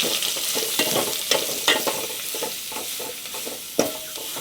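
Spices sautéing in a pan for rasam, a steady bright sizzle with scraping stirs and a few sharp clinks of the spoon against the pan, close and continuous, without talking.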